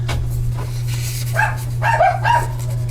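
A few high-pitched yaps and barks from small dogs, muffled and somewhat distant, with a constant low electrical hum underneath.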